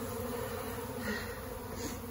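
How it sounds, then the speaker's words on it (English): Dense, steady buzzing of a honey bee colony and robber bees swarming around a cut-out colony clustered on a wall, a continuous close hum with no pauses and no talk. "The rest of those down there are robber bees."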